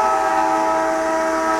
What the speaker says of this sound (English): That's probably our train.